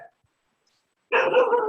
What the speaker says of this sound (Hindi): सर कुत्ते भौंक रहे थे